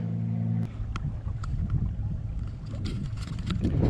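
A trolling motor on a kayak, powered by an Everstart 101Ah marine battery, runs with a low steady hum for a brief moment before giving way to splashing water and wind noise.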